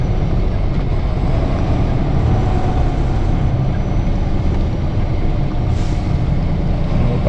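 Loud, steady low rumble of an idling semi truck engine, close by and continuous, with a brief hiss near the end that suggests an air brake release, while waiting in line behind another truck at a loading stop.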